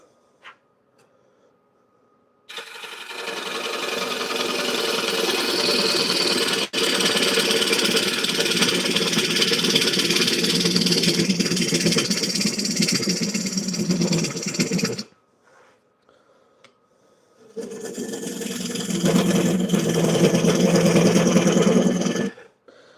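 A small wood lathe in a home workshop, not bolted down, turns a tapered workpiece with a steady, loud whirring hum that runs for about twelve seconds, stops, then starts again for several more seconds.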